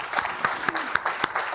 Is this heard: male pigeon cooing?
no